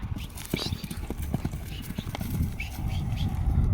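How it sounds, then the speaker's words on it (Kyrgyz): A young horse, a colt, runs with quick repeated hoof clip-clops on the ground, close and rhythmic, while people's voices murmur over the hoofbeats. "Бул келте тай экен"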